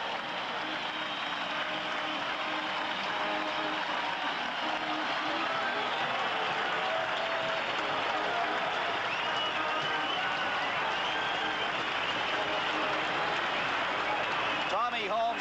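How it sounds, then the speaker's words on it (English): A baseball crowd on its feet at Shea Stadium during the 1978 Pete Rose hitting streak, steady loud applause and cheering filling the whole stretch under a broadcaster's voice. "The crowd on their feet at Shea Stadium, and what a thrilling moment this is."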